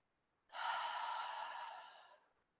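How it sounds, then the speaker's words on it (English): One deep inhaled breath during a gentle yoga flow, taken in mountain pose: a soft, close, airy intake lasting under two seconds, fading gradually, alone in an otherwise quiet room. "Big breath in mountain pose."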